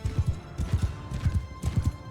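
A horse gallops in Mount & Blade 2: Bannerlord, its hooves pounding in a fast, steady clip-clop rhythm of repeated double beats, close and continuous throughout.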